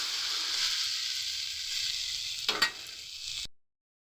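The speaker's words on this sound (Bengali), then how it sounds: "ভাজা ভাজা করে নিচ্ছি।" Okra frying in a pan with mustard and cumin spices nearby, a steady close sizzle with a brief scrape of stirring, then it cuts off abruptly to silence.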